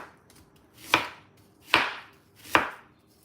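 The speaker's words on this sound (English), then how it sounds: "we're gonna go in and cut up the seasoning" Three sharp knife chops on a cutting board, evenly spaced about a second apart, as seasoning vegetables are cut up for Jamaican roast fish, close and clear with no talk.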